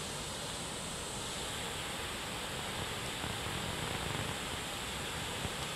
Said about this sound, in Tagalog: Pero maragasa yung tubig sa taas.